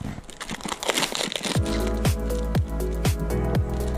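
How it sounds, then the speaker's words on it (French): Crinkling and rustling as packaging is torn open around a replacement motorcycle headlight, busy crackles at first, then a series of sharp rhythmic clicks or taps repeating about every half second, close and alone. "je vais vous déballer le produit"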